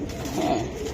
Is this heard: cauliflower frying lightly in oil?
no